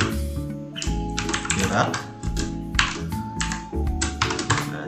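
Rapid, close computer keyboard keystrokes as code is typed, clustered clicking bursts running beneath someone speaking in Indonesian.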